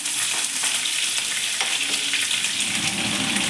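Finely chopped green chilies dropped into hot oil in a pan, a continuous loud crackling sizzle with small pops and a few stirring scrapes, close by and without speech.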